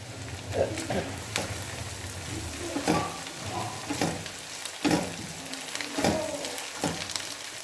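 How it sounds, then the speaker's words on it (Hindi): Fish being fried in masala in a pan gives off a steady close sizzle, with periodic scraping stirs spread through the stretch and no voices. "तो उनको भी तकरीबन 2 मिनट हमने अच्छी तरह भूनना है"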